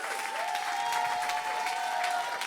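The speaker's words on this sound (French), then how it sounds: "On peut les applaudir très fort." Church congregation at a family service in Le Havre applauding together, a steady dense wash of clapping held for the whole stretch, with a faint sustained tone beneath it.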